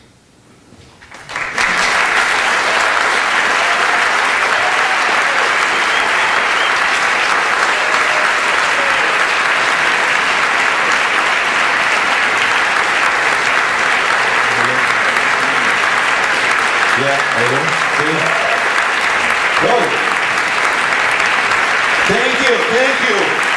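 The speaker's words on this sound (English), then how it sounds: "Stand up and give the applause." Sustained audience applause follows a lecture on US rule in Latin America, starting abruptly after a quiet moment and staying dense and loud throughout, with a few voices surfacing near the end.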